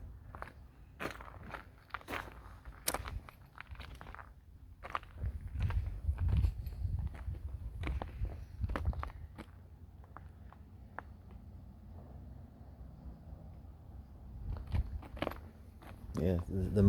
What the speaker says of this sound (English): Like this mud it's not really wet, it's crunchy.